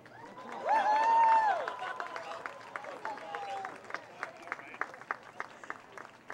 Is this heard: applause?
yes